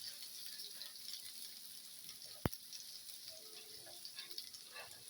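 Garlic frying in a pan for Filipino garlic fried rice (sinangag), a steady, soft sizzle running throughout with a single sharp click partway through.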